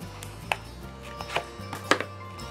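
Homemade double-sided tape being cut into one large piece for a 3D card, giving a few sparse, sharp snips and clicks against a quiet background hum, with no talking.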